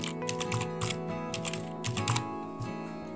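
Fingers tap out a password on a computer keyboard, a quick, uneven run of close, clear keystrokes over a faint steady background hum.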